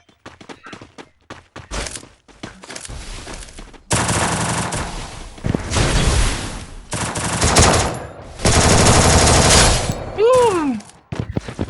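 Assault rifle fire in a shooting video game sounds in sharp, rapid bursts, first in short scattered shots and then in long, loud sustained volleys, with a brief rising and falling tone near the end.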